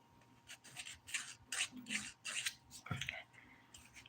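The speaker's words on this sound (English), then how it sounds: "you can see just by hand filing how much cleaner it all gets" Fingernails filed by hand with a nail file while shaping straight free edges during a dip-powder manicure: a quiet series of short scratchy rasping strokes in irregular bursts, close up, with a faint low voice underneath.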